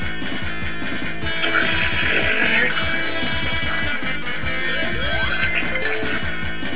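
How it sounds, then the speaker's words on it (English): A moving wall in Sonic 3 & Knuckles, Flying Battery Zone, rumbling along in a steady pulsing pattern beneath loud, busy game music and chiming effects. "That's the sound of the wall coming."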